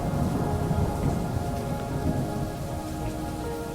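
Steady rain pours down in a dense, continuous patter, with a low rumble underneath suggesting distant thunder and no voices.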